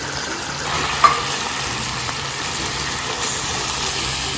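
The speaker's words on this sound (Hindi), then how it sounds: "इसको 1 से 2 मिनट आपने भूनना है ताकि मसाले अच्छी तरह से चिकन में चले जाएं" Chicken karahi pieces with spices frying in a pan, giving a constant, close sizzling hiss with one brief clink near the start, and no voices.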